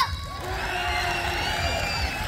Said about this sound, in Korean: 자, 요쪽도 박수와 함성!